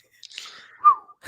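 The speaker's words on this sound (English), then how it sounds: "I always do the whistle along with at the end of it." A person whistles a short descending tune along with the end of the Bad Batch intro theme. It is a single brief, clear whistled phrase that slides downward, close and alone.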